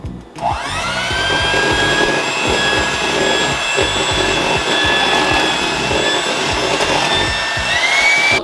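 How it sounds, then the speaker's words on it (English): Cream is whipped toward stiff peaks for a strawberry shortcake with a powered mixer, giving a loud, steady motor whine with a rhythmic ticking of the beaters that runs continuously and close by. "So now we're just gonna continue to keep whisking this together."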